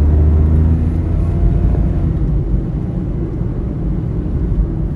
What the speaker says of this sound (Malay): saya nak enjoy perjalanan menaiki kereta Azia yang baru diservis